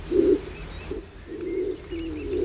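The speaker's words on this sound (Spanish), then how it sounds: "Esta en imagen es la paloma turqué, que hace el nido en lo alto, en los árboles" A laurel pigeon coos in the forest of Garajonay National Park on La Gomera, giving several low, close, drawn-out calls separated by short pauses, with faint higher bird notes in the background.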